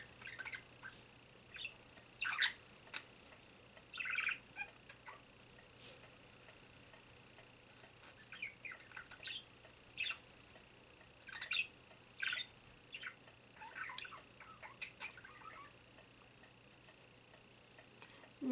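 Pet bird giving short, bright chirps in scattered bursts, with answering calls from a recording of its own voice, fairly faint over a quiet indoor hum.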